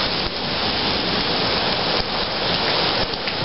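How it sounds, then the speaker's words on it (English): Sleet falls on the ground on a Christmas morning, a dense, steady hiss of icy pellets with soft ticking patter and no pauses. "Anyways, yeah, there's sleet falling on the ground."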